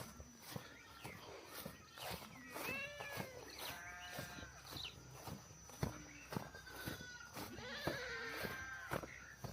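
Goats bleat on a large cattle ranch in Uganda, several wavering calls near and far over faint footsteps and rustling outdoor ambience.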